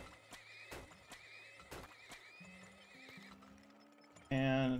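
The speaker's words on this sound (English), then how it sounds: "Add more horses." Horses neigh and whinny in the strategy game Turmoil over clip-clopping hooves and a steady game soundtrack, with several whinnies in a row before a loud tonal game sound cuts in at the end.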